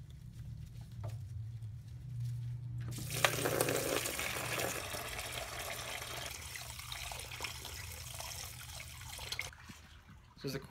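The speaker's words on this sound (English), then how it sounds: "As the coolant is draining right now" Coolant draining out of a Mazda RX8 during a coolant flush, heard as a steady broadband rush of flowing liquid that starts abruptly a few seconds in and continues loud and close with no talk.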